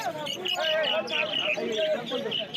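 Budgerigars chirping in a crowded pet bird market in Uluberia: bright, rapid chirps repeating steadily throughout, with voices talking close by underneath.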